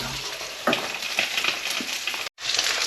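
Mackerel fillets sizzle skin-side down in a hot pan, a steady close crackle of frying fat that cuts out briefly near the end before resuming.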